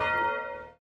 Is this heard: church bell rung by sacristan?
yes